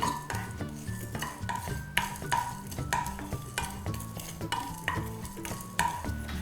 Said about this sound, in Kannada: ಮೆಣಸಿನಕಾಳು ಹಾಕಿ ಹುರ್ಕೊಳ್ತಾ ಇದ್ದೀನಿ